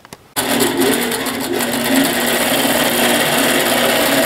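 A Millennium longarm quilting machine starts up and stitches a row across a quilt, a loud, close, steady mechanical whir with rapid needle chatter running without pause after a few soft clicks.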